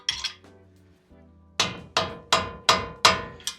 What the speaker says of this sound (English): grab your hammer, give it a few bonks, and do this in the crisscross pattern